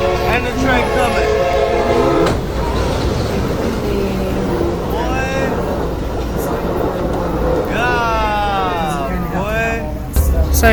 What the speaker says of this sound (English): And the train coming.